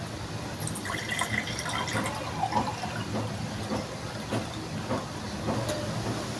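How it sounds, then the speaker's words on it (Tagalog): Water poured into two glasses to fill them for a salt-and-egg density experiment: a steady splashing, trickling stream with scattered drips, fairly close and continuous throughout, with no talking. "We need 2 glasses and fill it with water."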